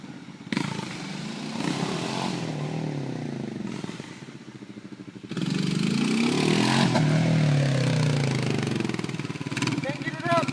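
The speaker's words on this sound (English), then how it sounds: "is Walter and James, both gonna ride a wheelie, hopefully." A dirt bike engine revs hard in two long surges as a rider attempts a wheelie outdoors, loud and close with a rough, clattering tone.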